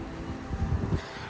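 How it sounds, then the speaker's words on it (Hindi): Cool wind blowing in light rain at Amboli Ghat, a low buffeting rush against the microphone with a few stronger gusts near the middle, close and fairly loud. "ठंडी ठंडी हवा है।"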